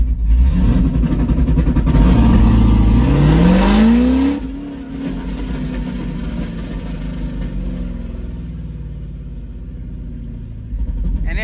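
A C6 Corvette with a 2-step launch control revs and pulls off in gentle launches from 2,000 RPM, the engine note rising loudly before dropping to a lower steady rumble as the car rolls away.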